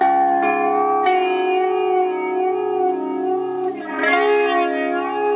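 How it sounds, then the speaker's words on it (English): A sustained, harmonically rich tone through a Moogerfooger MF-108M Cluster Flux pedal swirls with a slow sweeping flange, thick and phasey, with a brief dip and swell near the end. "you get this really rich, thick flange sound"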